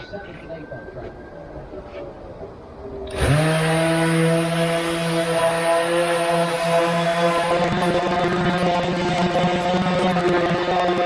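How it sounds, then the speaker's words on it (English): A power sander starts up abruptly on wood and runs at a steady high whine, loud and close, continuing without pause after a quieter stretch. "we're going to get started sanding it and start the time lapse"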